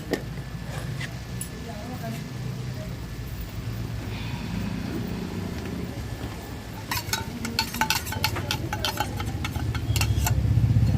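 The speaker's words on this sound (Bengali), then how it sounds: "শাকটা ভাজা ভাজা হয়েই এসছে" Red amaranth greens (lal shak) fry and get stirred in a pan with a spatula, a steady close sizzle with scraping clatters growing louder near the end, while people talk over it.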